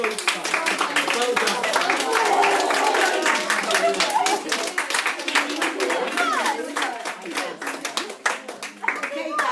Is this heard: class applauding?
yes